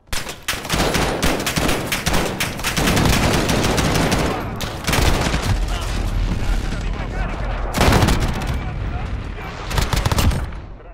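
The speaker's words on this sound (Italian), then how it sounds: "Bombardamento di precisione alleato" An allied precision airstrike lands in the Call of Duty Modern Warfare video game, a long dense stretch of heavy booms and crackling gunfire with repeated loud impacts, continuous and close, with a voice talking over parts of it.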